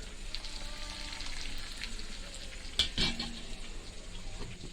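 Meat trimmings frying in a little oil with green chillies give a steady, soft sizzle, with a brief louder stir or clatter partway through and no talk.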